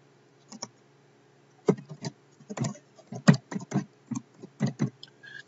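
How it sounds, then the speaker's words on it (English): A username is typed on a computer keyboard, with a quick irregular series of close, crisp key clicks in short bursts and small pauses, with no talking. "I'm going to type in my username."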